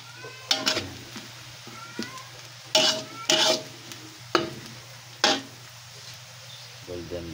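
Garlic fries in a pan until golden brown for pork sisig, a soft sizzle beneath several sharp clinks and scrapes of a utensil stirring against the pan.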